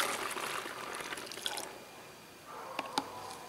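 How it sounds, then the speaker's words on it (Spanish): A homemade vinegar and water wrinkle-release mixture is poured through a funnel into a spray bottle, a soft, close liquid trickle and splash that fades, followed by a few light clicks. "El paso siguiente es envasar la preparación en la botella spray."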